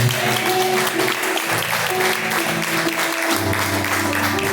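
A congregation at a live worship service claps loudly in praise of the Lord, dense, continuous clapping with steady tones, likely music, sounding beneath it throughout.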